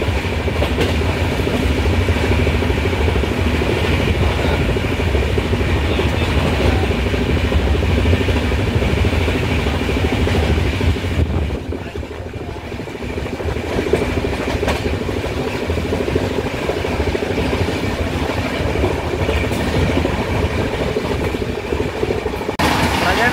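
Intercity SF Express train (12706) rolling steadily across a big river, a loud continuous rumble with rhythmic wheel clatter from the coach, briefly dipping in level midway before resuming.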